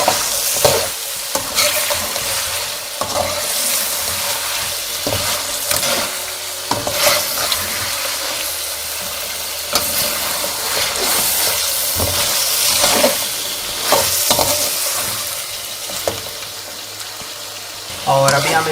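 Chicken karahi with green chillies is stirred in a wok over a loud, continuous sizzle, with irregular metallic scrapes and clatters recurring throughout.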